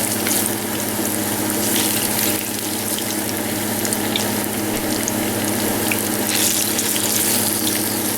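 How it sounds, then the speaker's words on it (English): Ripe plantains fry in a pan with a dense, continuous hiss and bubbling crackle, steady and close, with no talking. "you fry them for like another minute"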